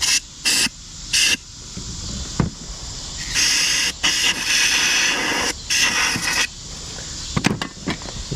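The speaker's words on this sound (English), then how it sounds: "I'm gonna hit it with some carbon choke cleaner and see if she'll fire up." Carb and choke cleaner sprays into the carburetor of a barn-find Polaris in a series of sharp aerosol hisses, short bursts then longer sprays with brief gaps, close and fairly loud.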